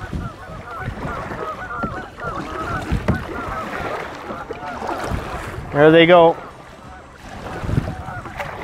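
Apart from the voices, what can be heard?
geese calling loudly near the river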